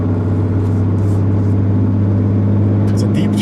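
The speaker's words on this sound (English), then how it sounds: "There's that diesel noise." A 2015 Ram 3500 Laramie Longhorn dually diesel pickup engine idles with a deep, steady throaty rumble, loud and close, with a few faint sounds in the background.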